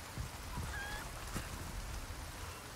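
A chicken clucks in the Resident Evil 4 Remake video game, a couple of short squawking calls over a dense steady background hiss, faint and brief.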